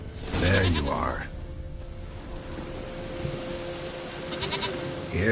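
Goat bleating in The Witcher video game, a loud close bleat at the start and a fainter one near the end, over steady ambient game background noise.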